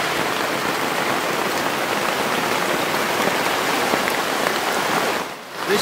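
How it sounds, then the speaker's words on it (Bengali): Heavy rain pours steadily outdoors in a rural village setting, a dense continuous hiss that stays loud throughout before briefly easing near the end. "বাইরে প্রচন্ড পরিমাণে বৃষ্টি হচ্ছে"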